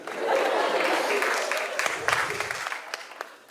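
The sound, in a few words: audience clapping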